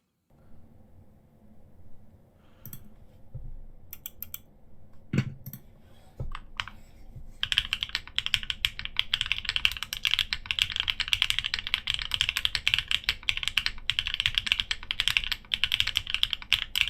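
Typing on a mechanical keyboard fitted with HMX switches and case foam, faint at first, then a dense, steady run of close key clicks and clacks with no talking.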